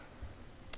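Computer mouse click while making a YouTube thumbnail, a single faint, sharp click near the end over quiet room background.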